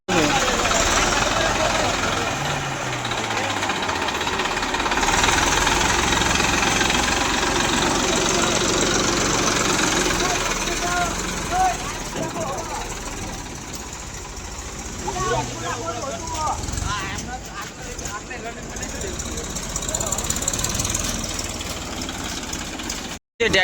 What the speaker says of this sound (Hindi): ट्रैक्टर लेके जाने पर निकल पड़े हैं डेमो करने के लिए।